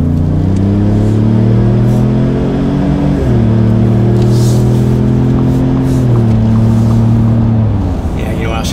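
A Ford F-150 EcoBoost fitted with an MBRP S5215 Street Series exhaust revs loudly up close, deep engine note climbing and dropping in several stepped pulls under brief talk.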